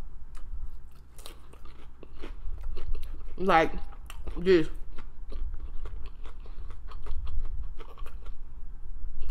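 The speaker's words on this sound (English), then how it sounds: "if I was eating and chewing and then it just cut off" Golden Chick fast food being eaten, with a couple of wet, crunchy chewing bursts close to the mic, and steady background noise throughout while a voice talks briefly.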